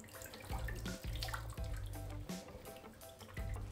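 Water streams and drips off a wet cat's fur as it is squeezed out by hand after a bath, a steady close splashing trickle with brief pauses between squeezes.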